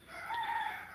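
A rooster crows once, a drawn-out, fairly faint call lasting about a second against a quiet background.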